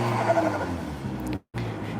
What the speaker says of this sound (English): Do you listen the noise of the car?